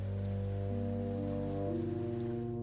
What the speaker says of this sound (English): rain tapped softly against the glass